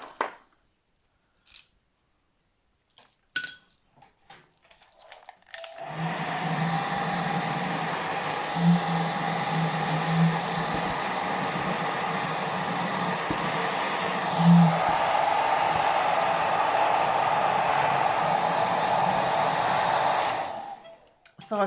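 A hair dryer blows on a bottle craft project, a few faint taps first, then a steady loud rushing drone for about fifteen seconds before cutting off.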